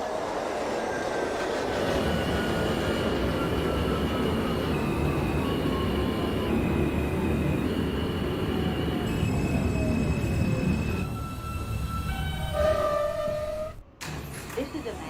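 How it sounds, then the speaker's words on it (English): An NYC Subway R160 J local train bound for Manhattan runs on rails in the OpenBVE simulator, with a loud, steady rumble and a long descending wheel squeal, then stepped rising motor tones and a chime before an abrupt cut, as people speak over it. "This is a Manhattan-bound J local train."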